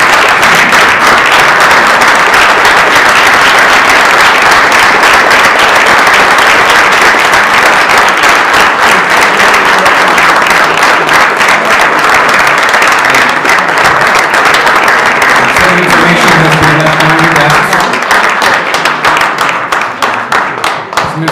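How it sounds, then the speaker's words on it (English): Loud, sustained applause fills a legislative council chamber for visiting members of the 369 Veterans Association, dense clapping continuing throughout before thinning slightly near the end, with faint voices underneath. "Please give them a round of applause."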